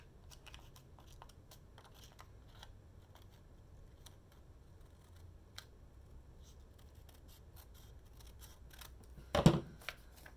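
Scissors make faint, scattered snips during paper-craft work on pockets and labels. A louder cut lands near the end against a quiet room.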